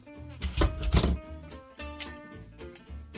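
A sharp knife slices and chops through leather for a stitching pony, giving several quick, fairly close cutting strikes in an irregular rhythm with short pauses between them.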